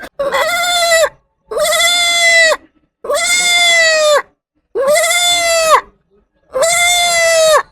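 A man imitates a goat with five loud, drawn-out bleats, evenly spaced with short pauses between them.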